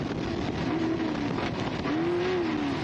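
Desert race car at high speed in sixth gear through sandy tree-lined terrain, a steady loud engine roar with rising and falling whine, no talking.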